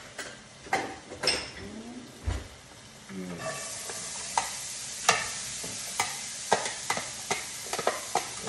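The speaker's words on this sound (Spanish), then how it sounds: "Ahora lo vamos a guisar aquí" Chopped chiles cook in a pan, sizzling under repeated scraping and stirring strokes that land as sharp, irregular clatters.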